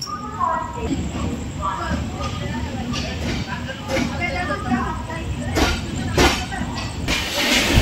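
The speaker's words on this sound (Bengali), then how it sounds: "আমাদের ট্রেন ছেড়ে দিল খুর্দা রোড থেকে" A 22890 Samudra Kanya Express passenger train, Puri to Kolkata, rumbles along steadily after leaving Khurda Road, with a constant roar and hiss, carriage rattles and occasional clanks throughout.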